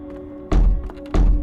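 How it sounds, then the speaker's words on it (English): Two heavy thuds on an attic door in a psychiatric hospital, a single bang followed after a short pause by a second, loud and close with a faint hum behind them. "That banging on the door wasn't normal."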